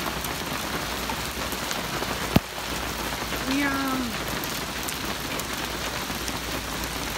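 Hail falling steadily in Los Angeles, California, a dense patter on surfaces throughout with one sharp knock partway through and a brief faint tonal sound in the middle, no talking.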